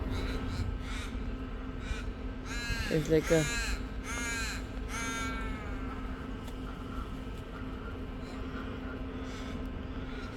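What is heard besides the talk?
crows cawing in a park tree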